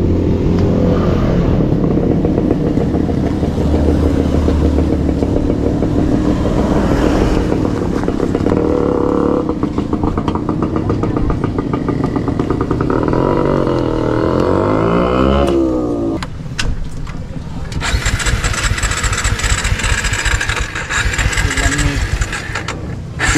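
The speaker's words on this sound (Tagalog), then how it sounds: "Yung lamig na naman yung aking motor." A motorcycle engine runs cold on a wet morning, chugging steadily up close with occasional revs, then its note shifts and settles near the end.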